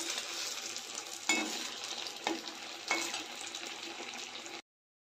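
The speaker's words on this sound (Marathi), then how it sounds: "असेच बाकीचे वडेही तळून घेते." Puffed rice (churmura) vadas frying in hot oil, a dense continuous sizzle with a few sharper bursts as the pieces are stirred, then an abrupt cut to silence.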